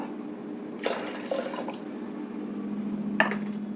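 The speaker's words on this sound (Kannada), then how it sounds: "ಈಗ ಎಷ್ಟು ತೆಳ್ಳಗೆ ಬೇಕೋ ಅಷ್ಟು ನೀರನ್ನ ಸೇರಿಸ್ಕೊಳ್ಬೇಕು" Water added to a mint and tomato rasam, short splashing pours into the pot at two moments over a steady low kitchen hum, with no talking.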